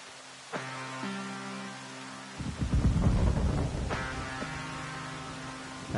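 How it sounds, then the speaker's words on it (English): Crossbow-made thunder sound effect: a deep, loud rolling rumble that swells and fades over a few seconds, set against a steady electronic hum with sustained tones. "That sounds like real thunder."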